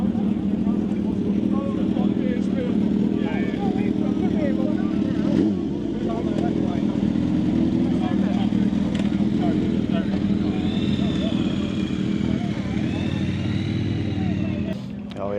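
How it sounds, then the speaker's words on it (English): Ducati Streetfighter V4S motorcycle engine running at a bike night at Mallory Park, a continuous throaty drone with other bikes around, under someone talking throughout. "we've got a Ducati Street Fighter V4S"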